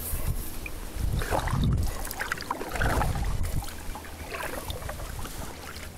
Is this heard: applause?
no